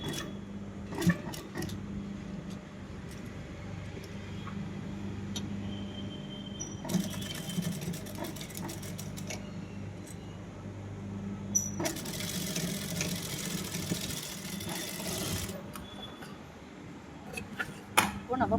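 Sewing machine stitching a hook attachment onto a blouse, running in a few bursts of steady mechanical whirring, with quieter handling and pauses in between.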